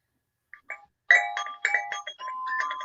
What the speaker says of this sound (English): Oh, I hear jingle bells.